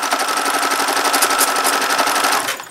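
A sewing machine quilting a baby quilt runs in a steady, fast, loud stitching rhythm close by, then slows and stops near the end, with no talking.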